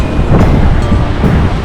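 Big ocean waves crash onto rocks near the Bronte ocean pool in Sydney, a continuous loud roar of surf with wind buffeting the microphone and no talk.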